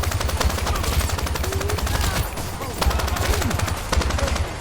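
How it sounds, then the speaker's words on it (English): Rapid, sustained machine gun fire from an overpowered gun in a video game, loud, dense bursts rattling continuously under brief talk. "you take control of Touchdown himself and his incredibly overpowered machine gun"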